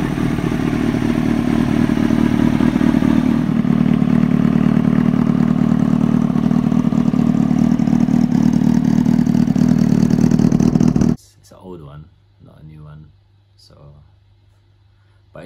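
Kawasaki Ninja ZX636 motorcycle engine running loud and steady close by, a continuous throaty drone for about eleven seconds before cutting out, followed by brief quieter talking.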